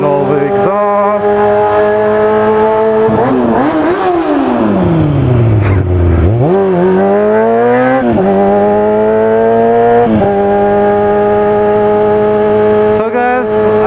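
Car exhaust roaring and echoing inside a tunnel during a high-speed freeway run, loud and continuous, with engine pitch climbing through gears, a deep drop and re-rise around mid-clip, and repeated shifts.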